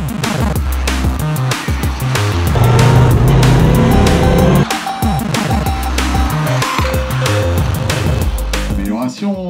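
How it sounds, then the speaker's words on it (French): Loud, continuous roar of Lamera Cup race car engines revving and passing during qualifying at Nogaro, with rapid gear changes and high-pitched whines throughout. "Place au qualif où on va assister à une belle bagarre entre 5 voitures."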